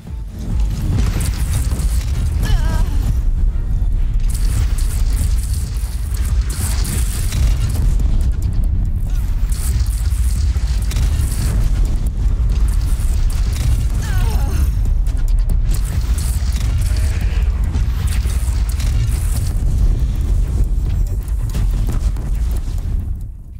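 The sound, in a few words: cannon firing explosions, from video game Horizon Zero Dawn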